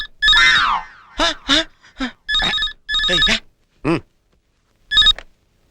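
A telephone rings in a comedy scene, with bright electronic trill bursts repeating in an uneven pattern and a voice briefly cutting in between the rings.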